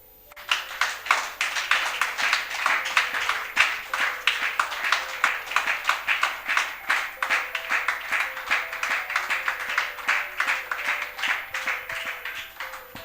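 A church congregation claps together in a sustained, dense round of applause, steady and lively throughout, with no voices standing out above it.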